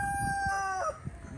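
A rooster crows loudly nearby, a long strained call that rises and breaks off with a rough, sliding finish.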